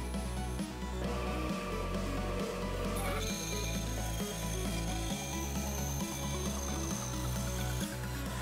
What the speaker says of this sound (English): I'm just going to cut down this block with my bandsaw to make it a little bit more manageable to hold.